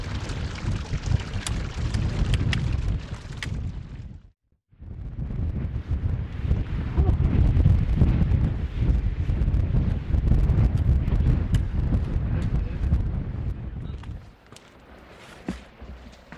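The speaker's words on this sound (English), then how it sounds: "It's a bit windy, hopefully you can hear this" Strong wind buffets the microphone in continuous heavy roaring gusts on Angel's Ridge in the Cairngorms, with one brief lull, then it eases toward the end.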